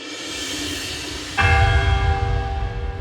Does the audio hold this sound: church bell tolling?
yes